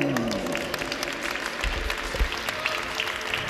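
An indoor crowd applauds the women's compound archery team medallists at the Spanish national indoor championship in Avilés, a steady, fairly loud wash of clapping throughout, with a faint voice over it at the start.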